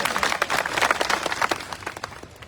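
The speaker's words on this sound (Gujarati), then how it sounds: "તાળીઓથી વધાવો" A crowd applauds at a farmers' protest gathering in Junagadh, a dense, steady patter of many hands clapping close by, holding for a couple of seconds before easing off.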